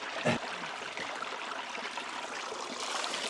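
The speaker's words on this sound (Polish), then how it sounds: "od dołu wodospad płyny" A small waterfall on a summer trip between Olsztyn and Nidzica in Poland, a steady broadband rush of falling water that runs unbroken and fairly close, with no voices over it.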